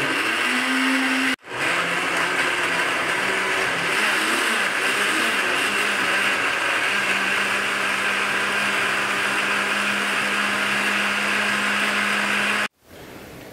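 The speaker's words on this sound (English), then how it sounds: "turned on the blender, and we're just going to blend the ingredients" A blender runs steadily for about eleven seconds, whirring as it purees kimchi ingredients, with a short cut at the start and another at the end; close, loud and continuous, with no talking.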